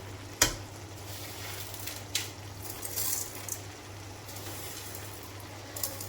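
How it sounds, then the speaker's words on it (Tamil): Gongura leaves frying in oil in a pan, a steady soft sizzle with occasional clinks and scrapes of a utensil stirring against the pan, fairly quiet and close, no talking. "இந்த கீரை இந்த எண்ணெயில் அப்படியே வேகணும்"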